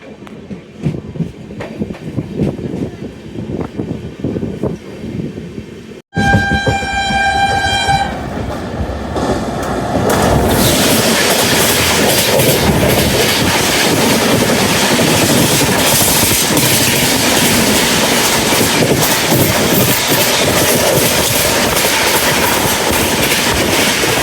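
A passenger train rushes past on the railway during a journey from Amritsar to Delhi, its horn sounding before a loud, close, continuous roar of wagons and rattling wheels.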